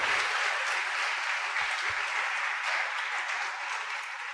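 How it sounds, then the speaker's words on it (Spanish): A church congregation applauds with dense, sustained clapping that fills the room evenly throughout. A few low thumps sound underneath. "Dele un aplauso al Señor"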